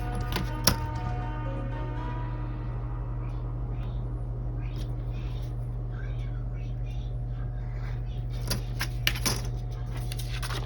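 A craft knife slices through card paper for making tuck boxes, with clusters of quick, dry scratching cuts near the end over a steady low hum, and a few soft taps earlier.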